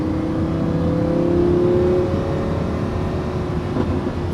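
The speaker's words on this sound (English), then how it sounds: "these V10s, they're world-class engines" A Lamborghini Huracán 580-2's V10 engine hums and revs steadily at close range, a sustained mechanical drone with a slight rise and fall.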